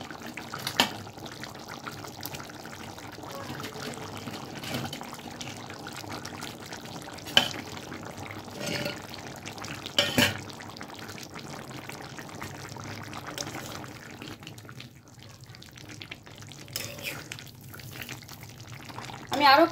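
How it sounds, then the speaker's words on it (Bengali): Lentil fritters dropped one by one into a boiling papaya and potato curry, a steady bubbling simmer with small splashes and plops, a few sharper knocks standing out near and clear. "এখন আমি ঝোলের মধ্যে একে একে ডালের বড়াগুলোকে দিয়ে দিচ্ছি।"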